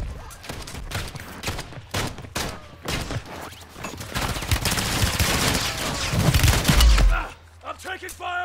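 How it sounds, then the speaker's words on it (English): Dense video game gunfire: rapid automatic bursts and heavy booms fill the scene, loud and continuous, ending in deep thumps, while players talk over it. "I'm taking fire!"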